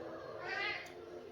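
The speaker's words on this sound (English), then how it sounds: "that's my cat Ivan in the background whining" A pet cat named Ivan lets out a brief whining meow in the background, faint and drawn out, heard alone over a quiet room.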